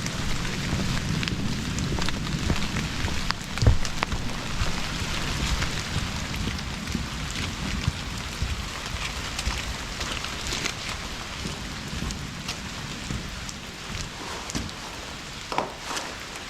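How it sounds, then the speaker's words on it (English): Heavy rain pours steadily during a thunderstorm outside a forgotten cabin shelter, a dense close hiss with a couple of brief, louder cracks or thumps mixed in, no voices. "There's a thunderstorm"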